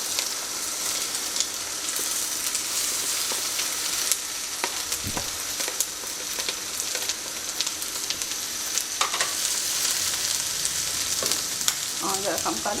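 Bell peppers and tomatoes fry in a pan for chicken jalfrezi, giving a steady, close sizzle with scattered crackles and pops and occasional stirring scrapes throughout.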